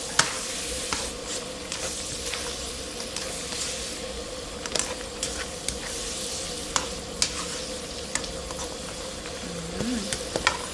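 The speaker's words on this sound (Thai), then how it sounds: "ทีนี้ก็ตามด้วยใบมะกรูดฉีกค่ะ ขยำนิดนึงนะคะ ให้น้ำมันหอมระเหยของใบมะกรูดออกมานิดนึงค่ะ แล้วก็ผัด" Pork belly stir-fried with torn kaffir lime leaves in a pan, a steady hiss of frying under scattered scrapes and taps of stirring, close and continuous, with no talking.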